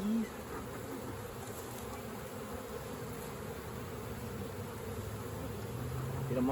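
Honey bees crowd over a pollen patty in an open hive, a steady dense buzz filling the whole stretch at close range, swelling slightly toward the end with no talk over it.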